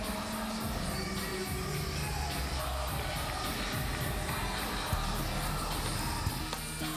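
Arena crowd roars for the hometown champion at an MMA event in Arizona, a dense, steady wall of cheering and yelling that holds for the full stretch, with a brief louder swell partway through.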